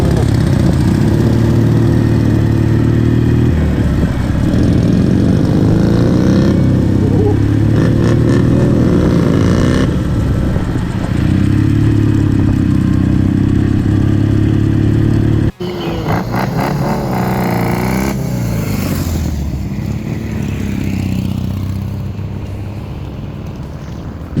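A Dnipro motorcycle engine runs loudly and steadily close by, idling with a deep throb, briefly cutting out and resuming mid-way.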